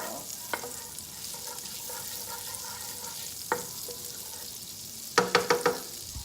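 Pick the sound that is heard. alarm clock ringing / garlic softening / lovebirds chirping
garlic softening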